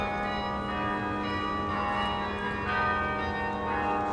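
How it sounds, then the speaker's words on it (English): Church bells near the Skull and Bones tomb at Yale University ring out with sustained, overlapping tones that resonate continuously at moderate distance, with no talking over them. "I didn't add those chimes from the church. It's happening as we're standing here."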